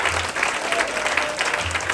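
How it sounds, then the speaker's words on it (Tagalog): Brief burst of church congregation applause, a thick, sustained patter of many people clapping at once, steady and fairly loud throughout. "Malakas sa palakpak sa Panginoon."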